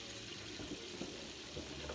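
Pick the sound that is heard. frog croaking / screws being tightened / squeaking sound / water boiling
water boiling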